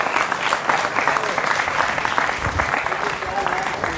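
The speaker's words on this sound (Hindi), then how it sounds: "जोरदार तालियों के साथ उनका अभिनंदन है।" A studio audience on a Hindi television talk show breaks into strong, sustained applause to welcome an arriving guest, with a voice speaking over the clapping.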